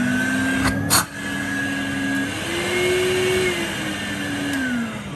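A refurbished Numatic Henry hoover vacuum cleaner runs continuously with a steady, loud motor whine whose pitch drifts slightly up and down, with a couple of brief bumps near the start.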